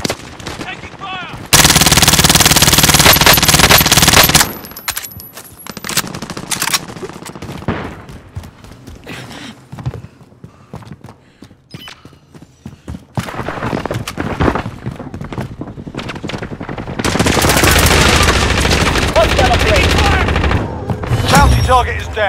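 Rapid bursts of automatic gunfire in the Call of Duty: Warzone battle on Rebirth Island: loud, sustained rattling volleys near the start and end, with scattered shots and game radio voices in between.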